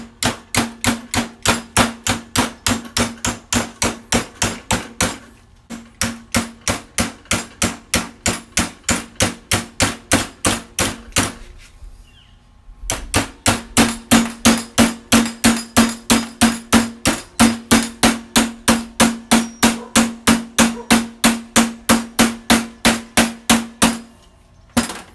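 Steel door strap held in a vise is bent over by hammering: rapid, evenly spaced loud metallic hammer blows in long runs, with a short pause midway and a longer gap near the middle before the strikes resume.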